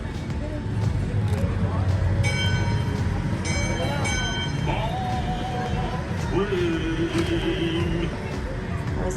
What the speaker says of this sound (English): That was the railroad.